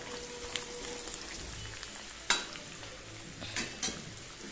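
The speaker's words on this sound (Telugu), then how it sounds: "మంచిగా ఫ్రై చేసుకోవాలి. పచ్చిమిర్చి బాగా వేగాలి." Green chilies fry in a pan for mango pulihora, giving a soft, faint sizzle with scattered stirring scrapes and a few sharper clicks.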